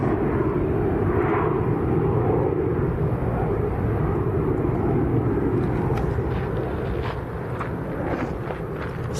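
Aircraft at Lanzarote airport in a strong crosswind, a steady loud engine roar mixed with gusty wind noise on the microphone, continuous throughout and easing slightly toward the end.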